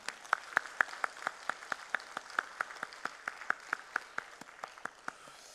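Slow, steady claps from a church congregation at a Wednesday prayer service, a single clear clap repeating about four times a second, fairly near and even, with no talk over it.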